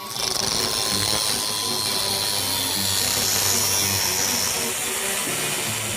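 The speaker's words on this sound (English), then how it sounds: "I'm going to cut these off of the Samurai plates and weld them on in the right place over there." A power saw cutting steel spring plates off Samurai plates on a 1966 Ford Econoline, a continuous grinding, rasping whine that runs loud and unbroken throughout.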